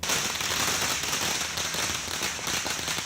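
Fireworks and firecrackers set off at a street celebration outside a politician's home, a dense, continuous crackling barrage with rapid overlapping pops, loud and sustained throughout.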